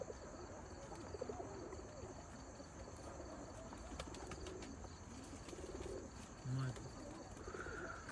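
Pigeons coo softly in a loft: low, rounded calls repeat faintly over a steady hiss, with a brief louder coo near the end and a voice now and then.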